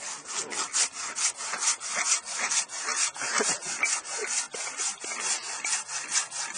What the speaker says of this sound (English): Sawing in, and it doesn't really matter.